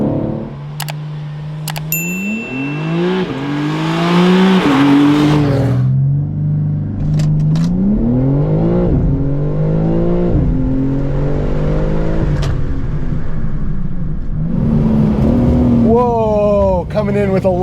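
A BMW M3 CS (G80) accelerating hard out of corners, its engine climbing through the revs in repeated loud rising pulls, with gear shifts in between and a voice speaking over it.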